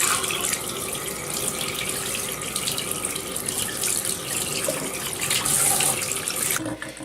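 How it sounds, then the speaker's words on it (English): A wig is rinsed under a cool running tap, the water pouring steadily into a sink at close range with a constant, broadband splashing rush and no voices. "You'll want to rinse again under cool water until the water runs clear."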